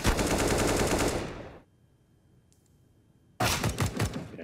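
Automatic gunfire from the video game CS:GO rips out in a loud, rapid burst, falls silent for nearly two seconds, then another close, rattling volley erupts.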